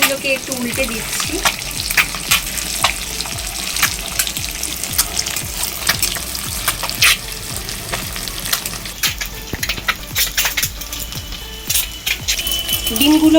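Turmeric-coated eggs sizzle in hot oil with a continuous close crackle, punctuated by repeated sharp scraping and tapping as a spatula turns them over in the pan.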